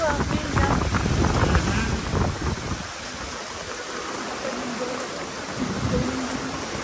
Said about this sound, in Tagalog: Ang lakas ng hangin. Yung ulan